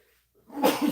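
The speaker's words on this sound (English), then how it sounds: "I'm going to sneeze." One short sneeze, close and fairly loud, bursts out after a near-silent pause.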